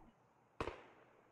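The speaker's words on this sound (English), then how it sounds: "Ooh, that's a sniper." A single sharp sniper rifle shot in the game Escape from Tarkov cracks out of quiet background, distant-sounding and brief, with a short decaying echo.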